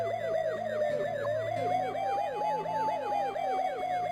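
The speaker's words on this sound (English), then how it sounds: "You jump in the ambulance and drive to the hospital, code 3." A loud, steady wail-and-yelp ambulance siren from Police Quest 3 runs code 3, the looping electronic tones sweeping continuously over the game's synthesized music, with no talking.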